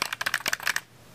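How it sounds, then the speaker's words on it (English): Rapid, close typing on a computer keyboard at a desk: about a dozen crisp key clicks in quick, uneven rhythm that stop abruptly, leaving quiet room tone. "And then so you're typing away"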